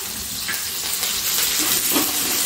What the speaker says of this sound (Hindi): अब जो हमारे पास कड़ी पत्ते थे वो भी हम इसके अंदर डाल देते हैं।